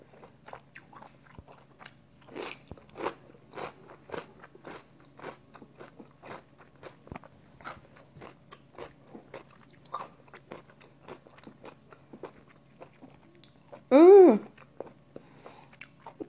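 Eating geoduck clam dipped in seafood sauce, with repeated close, wet crunching and chewing bites in an uneven rhythm and a short loud vocal sound near the end.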